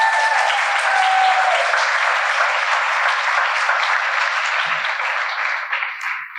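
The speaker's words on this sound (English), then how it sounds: "Could we give these folks another round of applause?" An audience at a Vermont extreme weather people's hearing gives a panel a sustained round of applause, a dense, loud, even wash of many hands that holds steady and begins to thin near the end.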